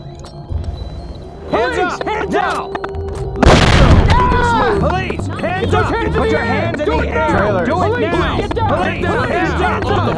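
In the video game SWAT 4, a flashbang grenade's sharp, loud bang erupts partway through, followed by a ringing hiss, while several voices keep shouting and talking around it.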